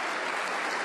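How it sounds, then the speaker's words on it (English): Snooker crowd at the English Open final cheering and applauding Wu Yize, a dense, steady wash of clapping and voices filling the short moment at close range. "You can hear them cheering him as he comes back"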